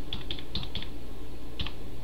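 Keys clack on a computer keyboard in short, quick bursts with small pauses between, close and clear over a low steady room hum.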